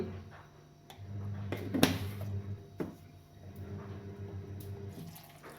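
Water runs and splashes into a vessel in short bursts, with a couple of clunks of the container being handled.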